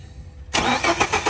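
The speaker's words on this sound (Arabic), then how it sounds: "راح نشغل السيارة الآن." A 2015 Ford Expedition with a 3.5 V6 cranks and fires up: quiet background, then a sudden loud catch into a steady, rumbling engine note with slight pulsing as it settles to idle, close by.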